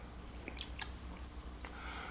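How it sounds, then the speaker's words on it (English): Someone chews crunchy Van Leeuwen honey ice cream with honey bits, producing a few faint, close crunches and soft wet bites over quiet background. "Absolutely love the crunch of the honey bits."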